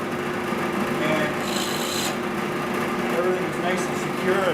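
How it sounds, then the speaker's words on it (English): A pedestal drill press boring a hole through wood, giving a steady close rasping, grinding drone throughout with a brief higher whine partway, while a voice speaks faintly over it. "So now we've drilled a hole with the pedestal drill press."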